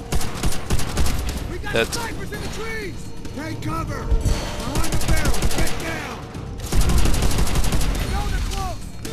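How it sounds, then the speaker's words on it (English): Gunfire in Call of Duty: World at War, dense rattling bursts of rifle and machine-gun fire with ricochet whines and mechanical clatter, loud and continuous while players talk over it. "They're shooting right, so now there's a guy there."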